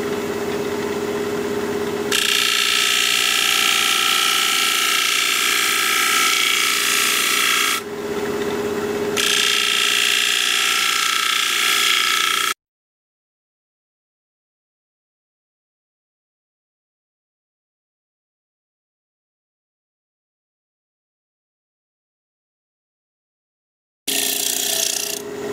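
An alder bowl spins on a wood lathe at about 1800 RPM as a tool hollows it, giving a loud, steady scraping hiss in two long stretches split by a brief dip, then silence and a short return.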